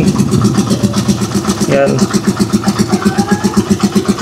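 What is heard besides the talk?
Rusi Chariot 175 tricycle motorcycle engine running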